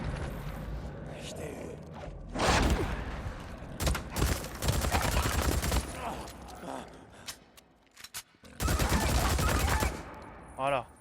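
Gunfire in the zombie game Days Gone comes in rapid automatic bursts and single shots, loud and close, broken by short gaps, with someone talking between volleys.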